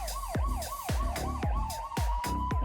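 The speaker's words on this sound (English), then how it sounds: "we can hear the siren" A wailing siren sweeps up and down repeatedly at a bull riding event in Armidale, Australia, loud and close, with a steady tone and sharp rhythmic thumps pulsing underneath.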